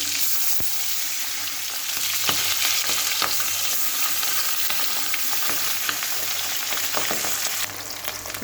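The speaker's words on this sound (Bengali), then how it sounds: "পাবদা মাছগুলো আমি এক একটা ভেজে উঠাবো" Pabda fish frying in hot oil in a wok, a loud, dense and continuous sizzle close up, with scattered sharp spatters and stirring clinks throughout and no talk.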